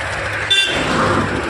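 A car heard close by on a road: steady engine and road rumble throughout, with a short horn toot about a third of the way in.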